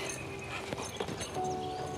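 Horse hooves clip-clop at a walk on firm ground, a few close, uneven steps under steady background noise with no talking.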